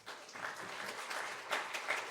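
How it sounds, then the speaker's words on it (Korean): A church audience applauds to welcome a pastor onto the stage. The clapping is a steady, fairly dense wash of many hands throughout, with no voices on top. "오늘 우리 목사님 나오실 적에 우리 환영의 박수를 한번 하면서"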